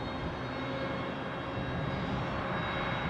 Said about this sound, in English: That'll be next in, 787 Dreamliner, Qatar.